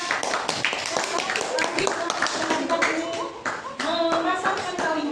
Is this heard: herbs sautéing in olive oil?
no